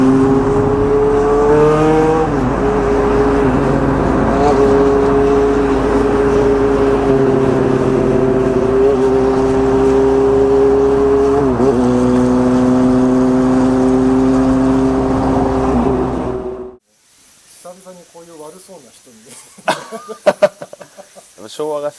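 Vintage Kawasaki Z1-era motorcycle engine fitted with a Moriwaki muffler, idling and revving loudly up close with a deep, thick exhaust note and rising and falling pitch, before cutting to quieter background sounds.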